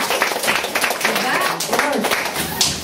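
Audience clapping in a sales meeting: a crowd claps briskly and continuously at moderate distance, irregular overlapping hand claps filling the whole moment, with a voice faintly audible underneath.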